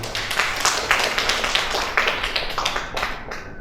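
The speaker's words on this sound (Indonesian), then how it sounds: "Tepuk tangan dulu untuk beliau." Applause from an audience at a formal handover ceremony for the head of a regional family-welfare organization in Indonesia, a steady run of many hands clapping that fills the space for several seconds and then thins out.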